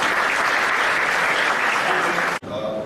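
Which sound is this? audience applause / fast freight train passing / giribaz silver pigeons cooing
audience applause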